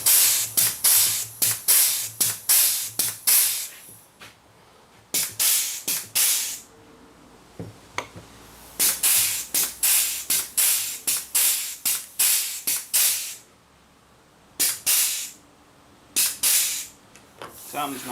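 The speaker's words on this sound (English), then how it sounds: "switch tools to our air greaser" A pneumatic air greaser fires grease at a mower wheel fitting in a string of sharp, hissing spray bursts, some quick and clustered, others longer, with short pauses between them, close and fairly loud.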